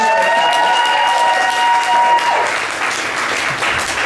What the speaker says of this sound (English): Big round of applause for the Nook for hosting me.